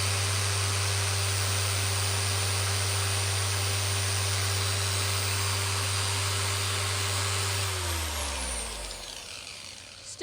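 A G9 dual action polisher motor runs at a steady high whine with a strong airflow hum for about eight seconds, then spins down and falls quiet at the end.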